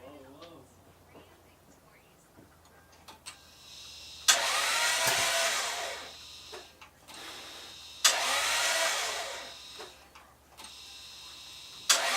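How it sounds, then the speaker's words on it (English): A 2000 Lexus GS300 with a 2JZ-GE engine, just back together after a timing belt and leak service, cranks in two loud bursts of several seconds each, with quiet gaps and soft voices between the attempts. "Let's go ahead and try it out and see if it starts."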